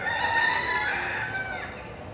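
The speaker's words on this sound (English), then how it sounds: "You just hear chickens like in the background." Chickens crow and cluck at a distance, faint rooster calls drifting through a quiet outdoor background.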